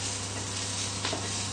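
Steady, close sizzling of food frying in a pan for chicken liver pâté, with a faint scrape of stirring partway through.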